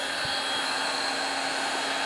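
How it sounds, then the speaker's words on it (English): A heat gun blows a steady, loud, continuous whooshing hum while warming vinyl skin on a MacBook Pro, close and unbroken throughout. "just be careful with the heat gun that you don't melt your vinyl or ruin your laptop"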